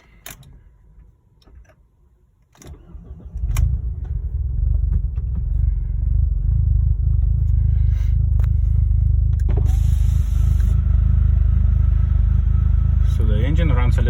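An Audi A4 B6 with the 1.8T engine, fitted with a Motoza tune, starts after a quiet ignition-on pause, then settles into a steady, loud, close idle with a deep rumble that continues to the end.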